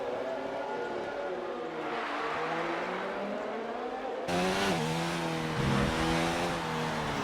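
Race car in F1 2019 at the Spain round, its engine wailing steadily through high revs, climbing then dropping in pitch around gear changes, loud and continuous with no talk.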